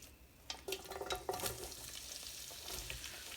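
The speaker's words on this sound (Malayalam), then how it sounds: "ഉള്ളി ഇഞ്ചി കറിവേപ്പില എല്ലാം ഇട്ട് നമുക്ക് വഴറ്റിയെടുക്കാം ഉള്ളി ഇട്ട് കൊടുക്കുകയാണ്" Onion, ginger and curry leaves drop into hot oil for an egg roast gravy, a soft sizzle with a cluster of quick stirring clinks and scrapes early on, then a quieter steady fry, nearby and without speech.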